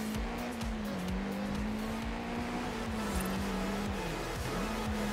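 Exocet racing car in Forza Horizon 5, its engine note revving up and down while tires squeal repeatedly through rapid skids, all loud and close with no voices.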